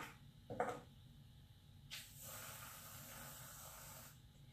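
Regular aerosol whipped cream sprayed to top a Florida fall colada: a short hiss, then a longer steady spray lasting about two seconds, close and fairly soft in a quiet room.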